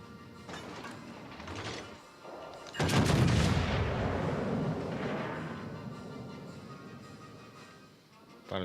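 Heavy battleship main-battery salvo from the Duke of York's 15-inch guns in World of Warships: Legends, a loud booming blast with a long rumbling tail, preceded by softer clatter and distant thuds.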